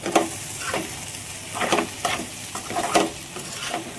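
Okra and onion frying in a pan, a steady sizzle broken by repeated scraping stirs at an uneven rhythm, close and fairly loud, with no talking.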